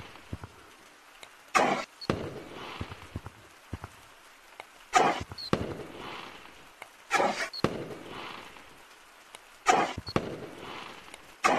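Fireworks in the VR game Gorilla Tag's Fourth of July update go off in four sharp bursts spaced a few seconds apart, each followed by a softer crackling tail as they ricochet, with no talking.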